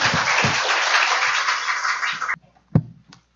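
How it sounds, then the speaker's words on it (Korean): A lecture audience claps dense, lively applause to welcome a speaker on artificial intelligence and education. The clapping stops abruptly, then a single sharp knock follows in near silence. "큰 박수 부탁드립니다."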